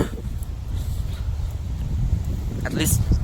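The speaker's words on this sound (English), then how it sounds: "It's so windy." Strong, gusty wind outdoors on a cold, cloudy day, roaring and buffeting the microphone as a continuous low rumble that swells louder toward the end, with no speech.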